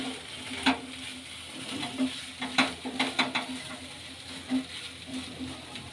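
Butter masala sweet corn chaat stirred in a pan with lemon juice, a spoon scraping and tapping in irregular close bursts over a soft sizzle and a low steady hum.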